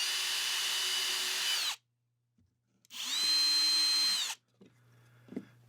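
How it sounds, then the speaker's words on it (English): A power drill bores into a wall while mounting a cleat for a DIY acoustic panel, two steady high-pitched whirring bursts of roughly a second and a half each, separated by a short pause, followed by faint handling clatter. "Go ahead and drill into the wall."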